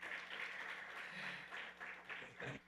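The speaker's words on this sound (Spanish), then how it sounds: "vamos a pasar a un aplauso" Audience clapping after a neuroscience lecture, a soft, fairly distant patter of hands that swells in a few brief bursts and fades toward the end.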